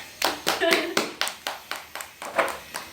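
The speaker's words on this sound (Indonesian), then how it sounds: "Tepuk tangan dulu buat Regina yang membaca." Classroom of children clapping for a pupil who has just read aloud, roughly ten distinct rhythmic claps in a loose steady beat, close and moderately loud, with children's voices mixed in.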